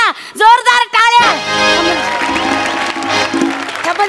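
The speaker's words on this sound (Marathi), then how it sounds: "जोरदार टाळ्या." An audience at a Marathi comedy show breaks into loud, sustained applause with some cheering, after a voice speaks briefly at the start and a few words come through near the end.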